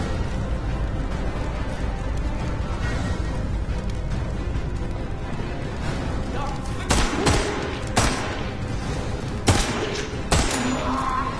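Gunfire in the video game Metro Awakening comes as a quick run of loud shots in the second half, following a stretch of steady background noise.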